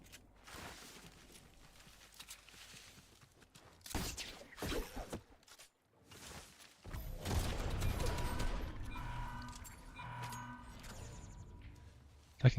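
Heavy mammoth pistol fire in a video game, loud broadband blasts arriving in bursts among mechanical clanks and footstep-like game sounds, with a long sustained roar of firing and impacts toward the end.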